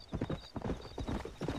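Horse hooves clip-clop in a steady trotting rhythm in the Red Dead Redemption video game, close and fairly loud, with a faint whinny-like tone mixed in.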